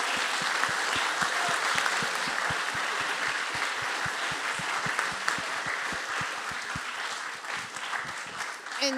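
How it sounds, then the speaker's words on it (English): A classroom audience gives a round of applause for Mitsui O.S.K. Lines (MOL), with dense, steady clapping throughout. The clapping thins slightly toward the end. "And one more big round of applause for MOL."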